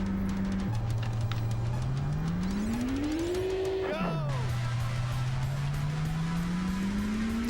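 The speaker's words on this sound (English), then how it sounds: "I guess the car sounds are pretty loud" Engine sounds from the Sega Saturn racing game Initial D: a loud car engine revs up in a rising whine, drops sharply at a gear change, then climbs again, with faint game sounds behind it.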